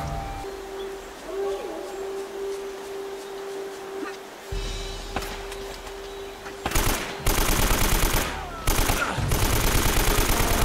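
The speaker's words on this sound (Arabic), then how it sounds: "الرشاش مره ثانيه." Automatic machine gun fire in the Uncharted action game, arriving as loud rapid bursts in the second half after a quieter stretch with a steady tone and low rumble.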